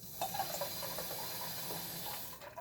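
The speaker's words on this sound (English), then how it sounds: "we add some water" Water is poured into a pan on a home stove, giving a faint, brief splashing hiss and trickle at close range, with no talking.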